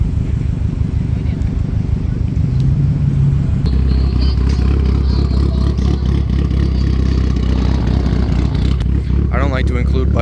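A Japanese V4 motorcycle engine rumbles loudly and continuously nearby, its throbbing idle shifting to a deeper, steadier drone partway through, with clatter from the surroundings.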